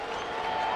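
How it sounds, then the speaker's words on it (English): Crowd of Cubs fans cheering and clapping at a ballpark after a base hit to right field, a steady, dense roar of applause over the whole moment, somewhat distant and even in level. "You can hear them cheering after that base hit by Ramos."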